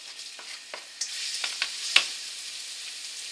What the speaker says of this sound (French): Alors on fait chauffer l'huile. On met l'oignon nouveau,